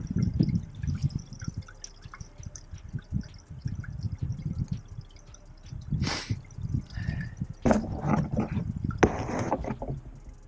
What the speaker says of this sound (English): a running sewer.